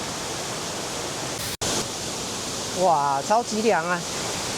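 A rain-swollen waterfall in a valley gorge beside a wooden stair path roars as a steady broad rush, briefly cut once, with a person's exclaiming voice over it near the end.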